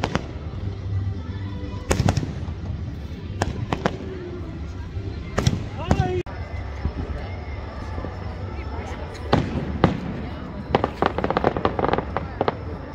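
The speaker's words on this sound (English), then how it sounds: "The fireworks are going off behind me over here." Fireworks bursting over Epcot at Disney World, an irregular series of sharp cracks and booms spread across the scene, heard at a distance over a murmur of crowd noise and voices.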